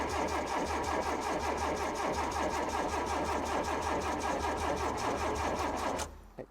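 An 80s supercharged Toyota MR2 barn find, fed petrol by hand, cranks and catches, its engine running loud and steady for about six seconds before cutting out abruptly.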